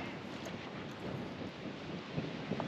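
Strong wind buffeting the microphone on coastal cliff tops near Howth, Dublin, a steady dense roar with no pauses that fills the whole stretch, low and rumbling, with no voice audible.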